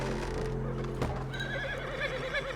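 A horse in Red Dead Redemption 2 gives a short, clear whinny over a low background hum, with faint hoof clops following.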